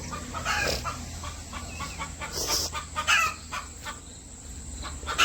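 Several hens cluck and squawk close by inside a chicken shed, with an occasional louder call rising above the steady chatter of the flock.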